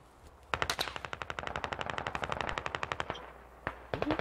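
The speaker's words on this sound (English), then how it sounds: "Stray bullets." Rapid machine-gun bursts of stray bullets in a military video game with Russian special forces, a dense run of sharp evenly spaced shots for about two and a half seconds, then a few isolated cracks.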